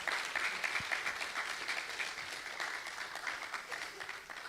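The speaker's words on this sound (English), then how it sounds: "Y'all need to give that a round of applause." An audience at an education summit applauds steadily, with dense clapping that holds level at moderate volume and slowly fades slightly toward the end.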